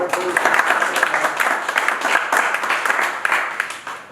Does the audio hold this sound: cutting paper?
no